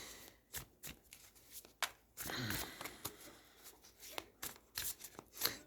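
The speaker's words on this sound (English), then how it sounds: "now we're going to pull a couple more clarifier cards." A Light Seer tarot deck is shuffled by hand during a reading, giving close, crisp riffling flutters and soft card slaps in irregular bursts, with a brief voice murmur partway through.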